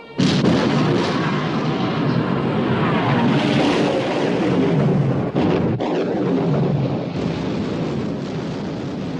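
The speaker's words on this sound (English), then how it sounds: "Open fire, Captain. Open fire." Dense, continuous rumbling barrage of artillery and gunfire in an action movie battle scene, loud and unbroken with windy roar and occasional sharper bursts.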